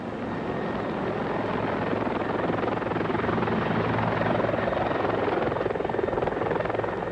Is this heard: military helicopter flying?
yes